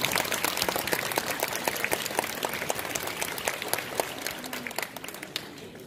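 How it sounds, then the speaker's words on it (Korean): Crowd applause at an outdoor Korean independence movement commemoration ceremony in Central California, a dense, steady clatter of many hands that holds at moderate level throughout. "박수로 맞아주시기 바랍니다."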